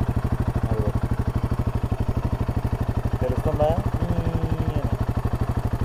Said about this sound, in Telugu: ఆన్ చేశాక ఇలా రావాలి. ఇగ్నిషన్ సౌండ్ వస్తూనే ఉంటుంది.